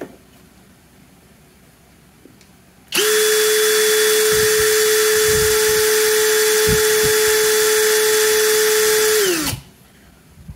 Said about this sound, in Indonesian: Di kecepatan nomor satu terlebih dahulu, modenya mode drilling ya.